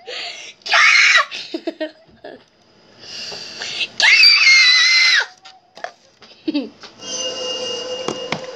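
A person screams loudly in several shrill bursts separated by short pauses, mixed with giggling and excited vocal noises at close range.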